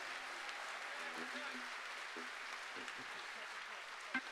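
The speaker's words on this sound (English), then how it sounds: "how about a wonderful round of applause for the staff here?" Audience applause for the venue staff at a Koerner Hall concert: faint, steady clapping from a distant crowd with a few voices underneath, ending in one louder sound.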